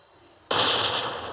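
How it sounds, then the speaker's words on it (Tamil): A sudden loud blast erupts in BGMI gameplay, a grenade-style explosion with a sharp onset and a sustained roaring decay, standing alone without talk. "பாருங்கள், நேடெல்லாம் வெடிக்குது."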